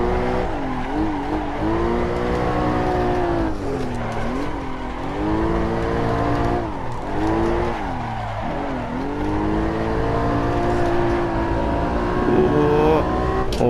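Porsche Cayman GT4 engine revving and accelerating on a test drive, a loud, continuous rising and falling engine note with repeated gear-change dips, close and sustained throughout, with no talk.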